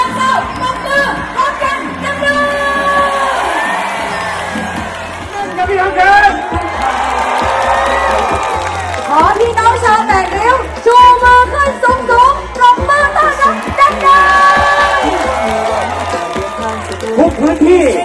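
Large crowd at a Pheu Thai party election rally in Chachoengsao, Thailand, cheering and clapping loudly and continuously, with steady rhythmic beats and music running underneath.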